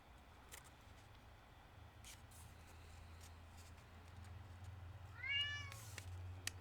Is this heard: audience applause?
no